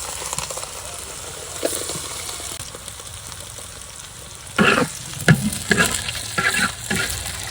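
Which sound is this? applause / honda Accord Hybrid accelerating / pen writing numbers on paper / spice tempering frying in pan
spice tempering frying in pan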